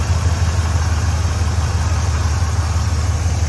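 A car engine idles steadily right after an easy start on a renewed battery, a close, even low rumble with a smooth pulsing beat and no pauses.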